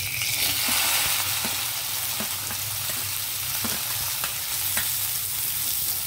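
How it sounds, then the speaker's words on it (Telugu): Onions frying in hot oil in a pan for a raw mango and dried fish egg curry, a loud steady sizzle with faint scraping stir taps scattered through, close up and without talk. "ఇదే ఆయిల్లో మనం ఆనియన్ వేసి ఫ్రై చేసుకోవాలి."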